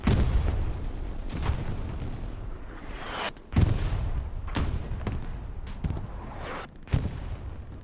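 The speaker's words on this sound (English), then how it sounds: "it's going to get blasted by the artillery here" Artillery shells landing in the video game Hell Let Loose during a tournament match, a series of heavy booming blasts at irregular intervals, each followed by rumbling decay, loud and without talking.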